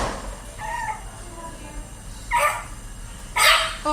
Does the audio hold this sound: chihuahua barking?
yes